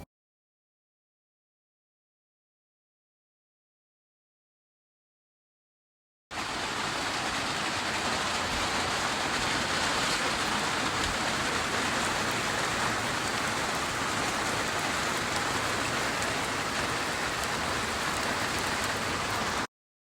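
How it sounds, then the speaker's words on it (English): Heavy rain falls outdoors at an irrigation repair site. It is a steady, dense hiss that starts abruptly after several seconds of silence and continues evenly and loudly to the end, with no voices. "The rain is starting to get heavier,"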